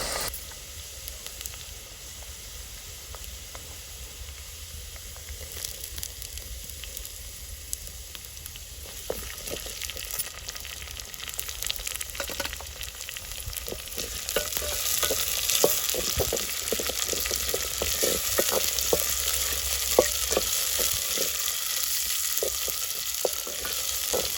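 Tomatoes frying in a pan on a traditional wood-fired clay stove in a farm kitchen, a steady close sizzle and crackle that grows louder and hissier partway through, with occasional stirring scrapes.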